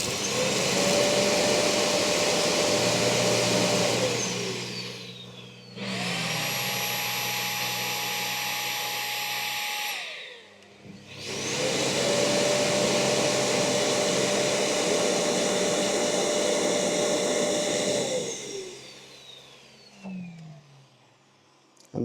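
A eufy E20 robot vacuum's self-emptying station roars loudly as it sucks collected dust out of the robot, running in two long whooshing bursts with a rising whine, a short lower-pitched pause between them, then winding down.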